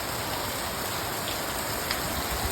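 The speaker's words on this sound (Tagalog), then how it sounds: "Inabutan na ako ng ulan dito mga par." Steady rain pours down outdoors beside a house in the Philippines, a dense, even hiss of drops on surfaces filling the whole stretch, with no talking.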